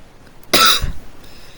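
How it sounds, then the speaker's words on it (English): A single short, harsh cough close up, a sudden burst that drops off quickly into quiet. "Excuse my coughing."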